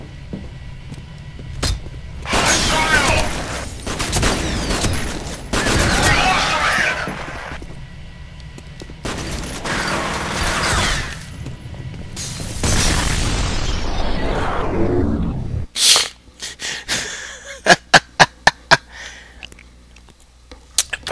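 Shotgun blasts from the F.E.A.R. video game, several loud booming shots spaced a few seconds apart with long decaying tails, followed by a run of sharp, quick pops near the end, with a voice talking in between.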